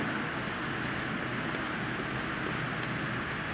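Steady scratching of a pen on paper while writing out a lesson name and question number, a continuous soft rubbing texture at moderate level with no voice over it.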